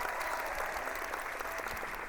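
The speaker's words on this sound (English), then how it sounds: "I think that deserves a round of applause." A short, dense burst of applause, many hands clapping steadily and evenly throughout, loud and close, with no voices over it.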